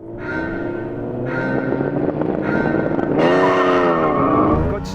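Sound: cars starting a race

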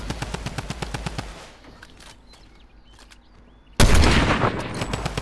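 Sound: gunfire in a video game

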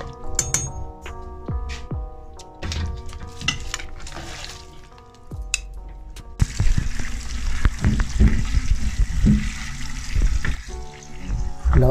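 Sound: washing chickpeas and adding them to the pot

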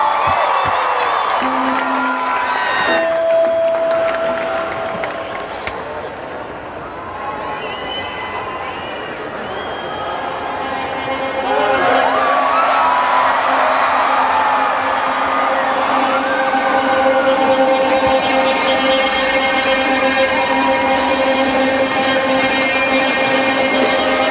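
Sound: concert crowd applauding and cheering

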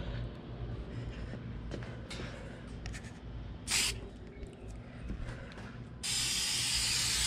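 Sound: spray painting first coat on Toyota Camry fender

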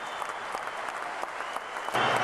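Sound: audience applause at weightlifting championship

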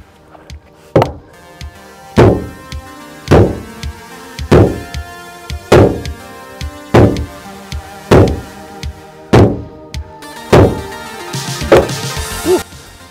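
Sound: boat hull being hit repeatedly in a durability impact test

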